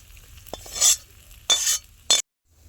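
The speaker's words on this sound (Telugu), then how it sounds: "అంటే తొక్కుగా దంచుకున్న మిరపకాయ, తడక అనేది ఇలా వేసుకోవాలండి." Crushed chilli flakes hit hot oil for a dal tadka, giving three short bursts of sizzling hiss with light clinks of a spoon stirring between them, followed by near silence.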